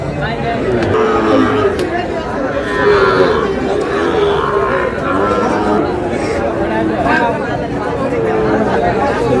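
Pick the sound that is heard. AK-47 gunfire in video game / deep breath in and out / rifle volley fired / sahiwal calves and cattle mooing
sahiwal calves and cattle mooing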